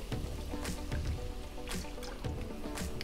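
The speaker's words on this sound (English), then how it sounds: "Going in with a quart of cream." A quart of cream pours into a flour roux in a pan for chicken Alfredo, giving a steady wet pouring and sloshing sound with a few louder splashy surges; no one speaks.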